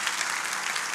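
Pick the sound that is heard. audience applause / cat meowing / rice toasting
audience applause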